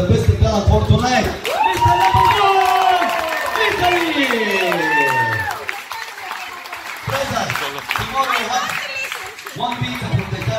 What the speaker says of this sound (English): give me the biggest applause for the best talent for tonight.